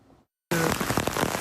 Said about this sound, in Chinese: 现在下雨